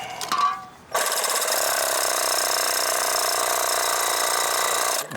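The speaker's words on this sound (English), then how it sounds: "Just gonna have to take a cutoff wheel, I guess." A cutoff wheel grinds into metal on a 1947 International KB3 farm truck, starting after a brief pause with a loud, steady, high-pitched abrasive screech that holds unbroken for about four seconds, then stops abruptly.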